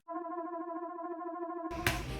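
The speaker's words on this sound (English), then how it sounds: "there's this really weird sequence where it's like this" Native American flute from Logic's stock instruments playing a rapid, stuttering sequence of repeated notes with a synthetic, unnatural quality, followed by a brief burst of noise at the end.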